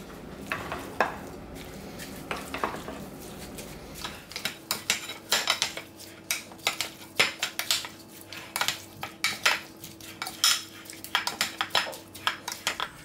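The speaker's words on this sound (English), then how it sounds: "I'm going to get that spoon and we're going to give that a mix" A spoon mixes chicken curry ingredients with sunflower oil in a wok, giving repeated close metallic scrapes and clinks against the pan, steady and fairly quiet, with no voices.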